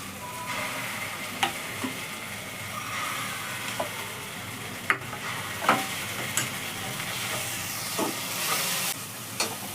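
Mustard and poppy seed paste sautés in oil in a pan over low flame, giving a steady close sizzle and hiss broken by occasional soft clicks of stirring.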